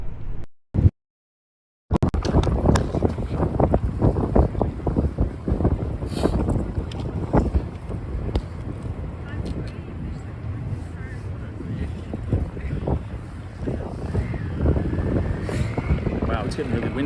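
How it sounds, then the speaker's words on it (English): Strong gusts buffet the microphone on a Midtown Manhattan street at night, a loud, continuous rumbling roar after a brief drop to silence near the start, with people talking faintly underneath. "it's getting really windy now"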